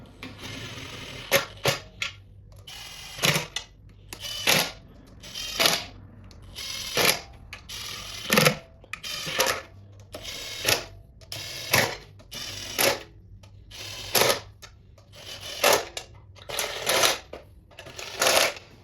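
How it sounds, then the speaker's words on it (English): Impact wrench on its lowest setting spinning oil pan bolts down on an LS1 engine with a chrome socket, a series of short sharp rattling bursts repeating every second or so, close and loud, with no talk. "we're gonna zip these down. The impact on the lowest setting."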